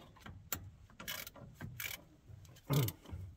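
A ratchet with a 15/16 socket loosens the single top bolt on a Cat C12 primary fuel filter, producing short bursts of close, quiet clicking separated by brief pauses.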